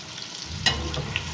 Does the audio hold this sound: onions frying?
yes